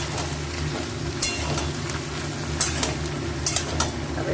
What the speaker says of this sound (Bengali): নুন দিয়ে এবারকে ভালো করে ভেজে নেব।